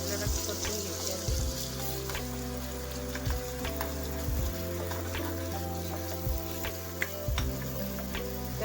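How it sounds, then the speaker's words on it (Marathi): Garlic and chili sauté in hot oil with cumin and mustard seeds, giving a steady close sizzle with scattered pops and crackles from the seeds throughout. "एक चम्मच जिरे मोहरी नंतर लसूण आणि मिरची आपल्याला परतून घ्यायची आहे।"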